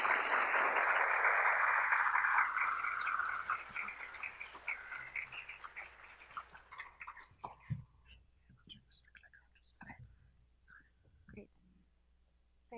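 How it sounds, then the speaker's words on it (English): Loud audience applause fills the opening seconds, then fades out, leaving scattered faint rustles and a few soft voices. "please give her a round of applause"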